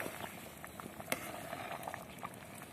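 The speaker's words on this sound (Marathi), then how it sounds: "भाताला उकळी आलेली आहे" Rice boiling in a pot for sweet rice, a soft, quiet bubbling with small irregular pops and patters, close and steady, without talk.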